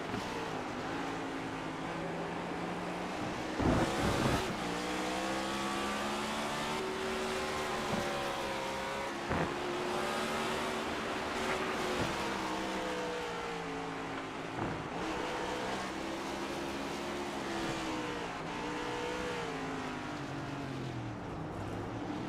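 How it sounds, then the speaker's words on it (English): Several race cars in a sim racing game on an oval with a hairpin, engines droning and shifting pitch together through the final turn toward the start-finish line, loud and continuous with no talk. "And it's Stefan Wagner in P3, making his way now through the final turn before the start-finish line"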